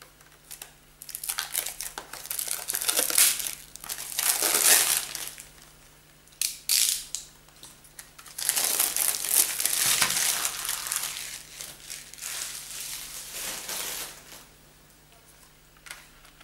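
Plastic wrapping on a pressed CD is torn and peeled off close up, loud bursts of crinkling and crackling plastic come in irregular waves separated by short quiet gaps, with no talking.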